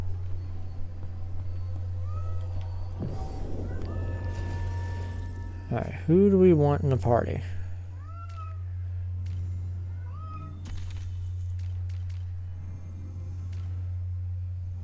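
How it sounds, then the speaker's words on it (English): A pet cat meows in the background during a Dragon Age: The Veilguard gaming session, with a strong wavering cry partway through and fainter meows scattered around it, all under steady talk and a constant low hum. "my cat is going nuts in the background. I can hear her."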